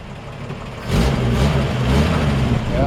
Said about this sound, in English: Yeah, nice original sounding exhaust there.